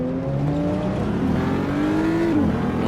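Car in a video game burning its tires in front of a BMW during a sports car cruise: sustained loud engine roar with rising revs and tire squeal, continuous throughout without talk.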